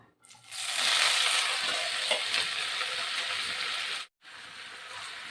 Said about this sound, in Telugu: ఇది కూడా కొంచెం మగ్గించుకోవాలండి నూనెలో వేగితేనే టేస్ట్ వస్తుంది